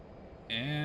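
F/A-18 jet engines in the DCS flight simulator run up to full afterburner during start-up and launch; after a quiet start, a loud roar cuts in abruptly and holds with rising tonal whine.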